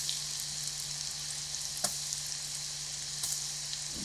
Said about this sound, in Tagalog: Pirituhin natin yung mga talong into medium heat hanggang sa mag-golden brown nito.